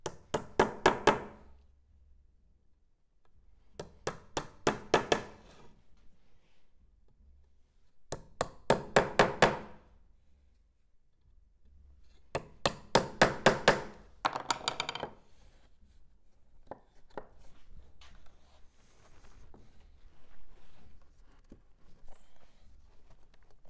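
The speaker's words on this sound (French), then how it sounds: "Avec quelques restes de bois et un marteau en bois, tapez encore sur le cadre pour le renforcer un peu." A wooden mallet raps a wooden shelf frame in tight bursts of fast taps, five clusters separated by pauses, then a few softer scattered knocks, close and unaccompanied by talk.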